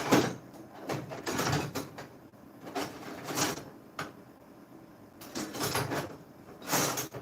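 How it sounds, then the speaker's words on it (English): A drawer in a blacksmith shop is pulled open and its contents are rummaged through, giving repeated clattering, sliding and knocking bursts at close range with short pauses between them and no talking. "I have it in this drawer somewhere."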